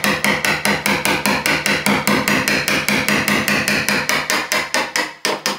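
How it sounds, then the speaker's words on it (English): A hammer strikes a chisel cutting into wood for a wire plate, sharp loud blows repeating in a fast, steady rhythm of about three per second, close by and with no talking. "When you are chiseling, you'll notice the chisel's got a flat side and then an angled side."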